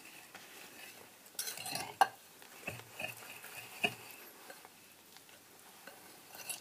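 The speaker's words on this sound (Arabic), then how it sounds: "كنمزجهم بالفوي مزيان" Honey and milk whisked into oat and chia pancake batter, the utensil knocking and scraping softly around a bowl in irregular strokes, close and quiet with no talking.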